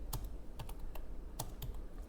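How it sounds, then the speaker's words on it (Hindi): Steady typing on a computer keyboard during a typing lesson, with quick irregular key clicks repeating over soft background noise, close and with no voices. "इस तरह से आपको टाइपिंग करना है।"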